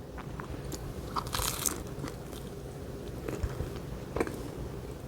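Crisp bites and crunches into a fried cheese and steak eggroll, several separate crunchy bites up close over a steady low background, with no talking.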